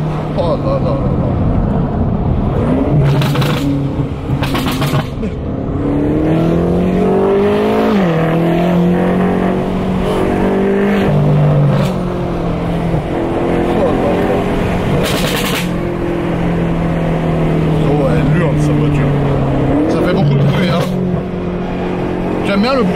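A loud 850-horsepower BMW M8 engine roars and revs continuously during a burnout, pitch sweeping up and down with sharp pops and bangs, while people talk over it.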